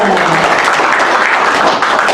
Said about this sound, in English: Can we give God a clap offering, church?